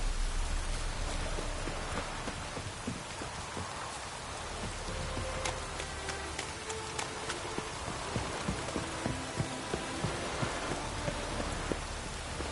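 Steady rain pours in a video game, a dense continuous hiss with scattered droplet ticks and faint clopping hooves or footsteps underneath, with no talk.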